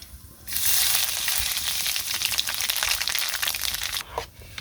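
Cumin seeds hit hot oil for village-style khichuri and erupt into a loud, steady crackling sizzle that holds close and strong for several seconds before briefly tapering off, with no talking over it.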